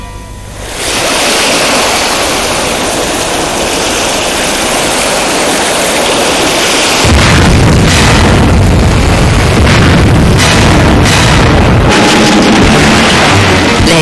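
The battleship USS Maine explodes in Havana harbour as a loud, sustained roar that swells in, grows heavier and rumbling partway through, and carries on with crackling bursts, without a voice.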